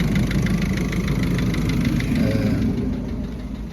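A warmed-up Ford Focus MK3 engine idles close by with an even, rhythmic chug, continuous and unaccompanied by talk, tapering off slightly in the last second.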